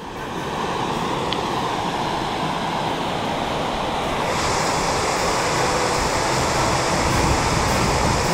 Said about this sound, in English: A raging river flowing underneath all the snow